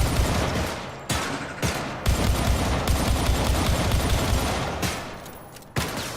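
Sustained automatic gunfire in the shooter game Syndicate, loud dense bursts with brief gaps between volleys, close and continuous.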